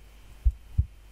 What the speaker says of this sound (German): So höre ich gerade meinen Herzschlag.